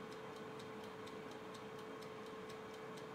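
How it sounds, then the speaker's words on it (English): A Daewoo halogen air fryer's timer ticks in a steady, regular rhythm, with the appliance's constant hum and fan whir beneath it, close and alone with no talking. "the timer ticking away"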